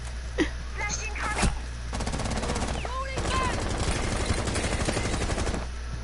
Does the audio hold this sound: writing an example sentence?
no